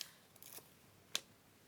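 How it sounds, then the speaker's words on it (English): Scissors snipping through card packaging while crafting nature junk journal tags, a few soft crisp cuts and one sharper snip close by, quiet and without talk. "I'm just cutting them out of this packaging."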